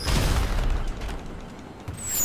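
Firework launcher explosions in the GTA 5 video game, a heavy boom up front that fades into crackling rumble, then a whistling streak near the end, loud and close with no talk.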